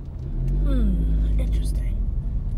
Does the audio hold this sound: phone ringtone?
no